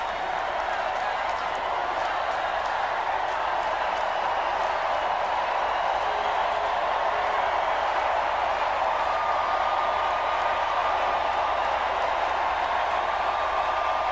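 Steady, dense applause and cheering from a comedy-club crowd welcoming a stand-up comedian to the stage; a broad, continuous wash of clapping that holds at an even level throughout with no talk over it.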